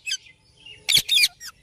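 Several Pakistani wild parrots give a few short, shrill chirps and squawks in quick bursts, moderately close, with quiet gaps between calls.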